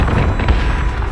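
Ship cannon fire in the space combat game Battlestar Galactica Deadlock: a sustained, heavy low boom rumbling steadily through the whole moment without clear breaks.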